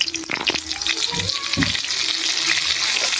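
Dry red chillies sizzle and spit as they hit hot oil in a pan, a close crackling fry with some watery clatter and bursts of spattering.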